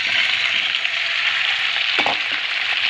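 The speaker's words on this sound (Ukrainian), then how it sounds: "Спочатку я буду жарити м'ясо." Meat sizzles and crackles in hot oil over the highest heat, a constant bright frying hiss with occasional pops, close and loud.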